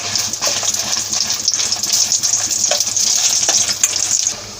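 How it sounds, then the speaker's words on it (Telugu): Dried red chillies fry in hot oil for a Telugu nalleru chutney, a steady close hiss and crackle that runs evenly throughout, with no voices. "ఆయిల్ వేడైందండి. ఎండుమిరపకాయలు వేయించుకోవాలి."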